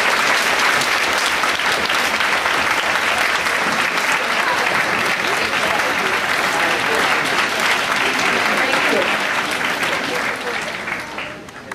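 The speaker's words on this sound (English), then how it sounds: "join me in a round of applause for all these special people who have made this happen" A large graduation-ceremony audience gives a sustained round of applause for the graduates' supporters, dense, loud clapping that fills the room steadily before tapering off at the end, with some voices mixed in.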